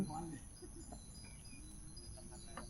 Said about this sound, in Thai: เสียงนกเสียงเขียดกบร้อง ธรรมชาติสุดๆ